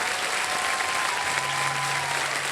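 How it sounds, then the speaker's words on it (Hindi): A studio audience on a television quiz show claps loudly and continuously, a dense even roar of applause with no break throughout. "तालियां बजती हैं जोरदार।"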